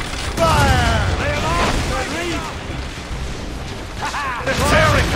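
Ship cannon fire and explosions during a naval battle in Assassin's Creed Rogue: heavy booms and rumbling blasts roll under near-constant shouting voices, loud and dense across the whole stretch.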